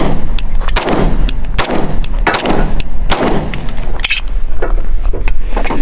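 An Alchemy Classic Government 1911 pistol fires several sharp, loud shots in an uneven rhythm, each crack trailing off in a short echo, with no talk.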